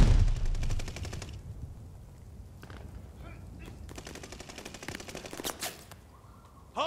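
Sustained rapid automatic gunfire rattles around the hardpoint in a Call of Duty: Vanguard multiplayer match. Loud bursts come in long strings with brief pauses between them, and a few sharp isolated shots follow near the end.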